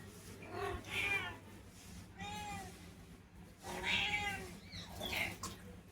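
A mother cat meows repeatedly to call her kittens, four or five drawn-out, fairly close cries separated by short pauses over a quiet background hum.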